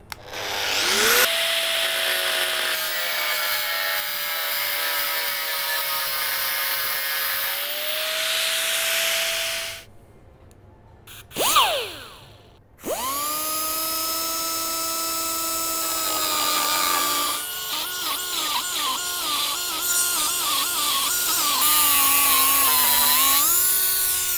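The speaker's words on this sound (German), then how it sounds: "Ganz normal, mit Flex. Auch mit der Flex." An angle grinder whines loudly while cutting metal on a Porsche 911 sill, its pitch shifting as it bites, with a brief pause and spin-down midway before resuming.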